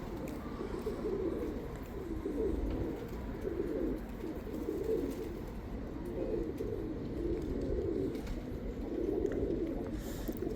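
Pigeons coo in a loft, their soft, rolling calls repeating in low, overlapping waves over a steady background hum, with the occasional faint chirp.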